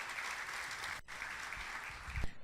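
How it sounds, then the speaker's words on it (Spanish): Congregation applause at an evening Bible study service, a dense steady wash of clapping that stops briefly near the one-second mark, then resumes before fading out at the end. "démosle un fuerte aplauso al Señor"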